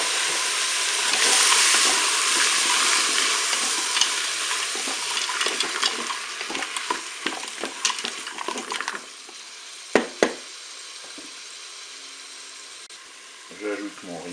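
Mussels tipped into peppers cooking in a Cookeo multicooker, with a loud sizzle and spatter that fades into quieter hissing, a couple of sharp clanks following.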